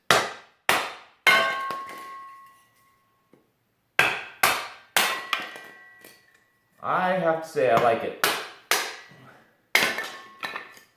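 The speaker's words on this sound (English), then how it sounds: "If you get a hard piece of wood, you can just hit it with a hammer." A hammer strikes wood pieces in a kindling cracker splitter, with sharp loud cracks in uneven bursts and ringing clangs, and a person speaks briefly midway between strikes.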